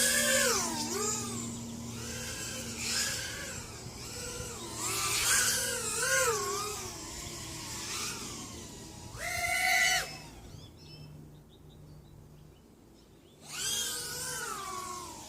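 Motors on an HGLRC Hornet 120 drone whine as they rev up and down in repeated rising and falling sweeps, close and fairly loud, then drop to near silence before spinning up again at the end.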